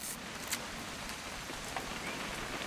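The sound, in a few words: rain in the video game What Remains of Edith Finch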